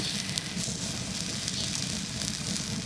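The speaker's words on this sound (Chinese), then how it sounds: "先下锅烫一下毛，下锅烫。" Pork belly seared skin-down in a hot pan to burn off the hair, giving a steady, close hiss and crackle that runs unbroken without speech.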